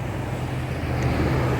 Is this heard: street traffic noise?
yes